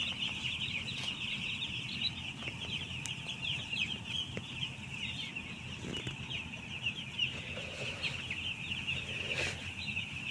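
A flock of broiler chickens clucks and chatters inside a poultry house, a dense constant murmur with scattered wing flaps and a few louder clucks, no talking.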